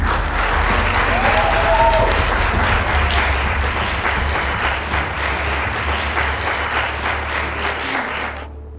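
An audience gives sustained, loud applause to see off the models at a televised show, a dense steady wash of clapping lasting several seconds before cutting off abruptly.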